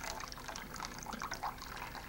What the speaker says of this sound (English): Now we'll measure out our 1 pound of water.